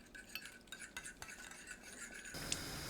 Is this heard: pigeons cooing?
no